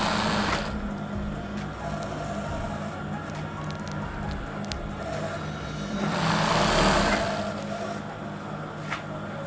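A sewing machine stitches elastic into palazzo trousers: a short whirring run at the start, a low hum in between, then a longer, louder burst of stitching near the end.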